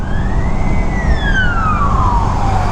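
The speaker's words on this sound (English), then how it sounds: "Ambulance, ambulance." An ambulance siren wails loudly and close by in Singapore traffic, heard from a motorcycle, a single long sweeping tone that rises and then slowly falls over steady road rumble.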